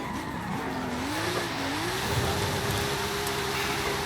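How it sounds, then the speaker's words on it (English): A car drifts in the racing game Forza Horizon 5, played on a Thrustmaster wheel with strong force feedback: a loud, sustained tire squeal that wavers then rises and holds steady over a constant engine drone and road roar. "We're gonna try to do a little drift here."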